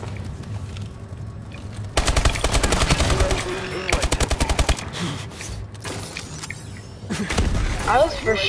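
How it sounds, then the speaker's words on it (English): Call of Duty Advanced Warfare gunfire: two long, loud, rapid automatic bursts lasting about two seconds and one second, followed by further scattered shots and a closing flurry, with a voice talking intermittently. "But we were getting shot at."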